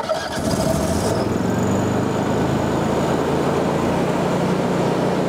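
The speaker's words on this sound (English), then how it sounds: "We're gonna start our engine now." Lincoln Ranger Air engine-driven welder with air compressor cranking and catching within the first second, then settling into a steady, loud, close running drone with no talk.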